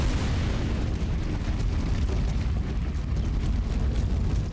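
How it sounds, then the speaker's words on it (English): Grenade blast in the Robocop: Rogue City video game, heard as a dense, loud, sustained rumbling roar of explosion noise that fills the whole stretch without breaks. "Someone just threw a grenade at me."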